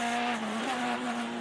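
Onboard a rally car on a special stage at the 2013 European Rally Championship in France, a loud, sustained engine drone at steady high revs, close and continuous for a brief moment.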